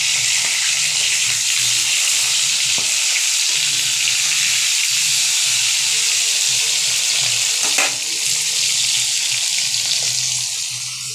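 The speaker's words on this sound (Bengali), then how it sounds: "এই যে মাছ ভাজা হচ্ছে" Fish fries in a hot pan in a home kitchen, giving a loud, continuous sizzle and crackle of oil that runs steadily throughout with no talking.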